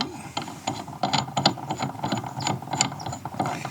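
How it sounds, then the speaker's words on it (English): A screw section being unscrewed from a bottle jack produces a steady run of close metallic ratcheting and grinding clicks, irregular and continuous throughout. "So what we'll do is we'll go ahead and unscrew this all the way, take it out"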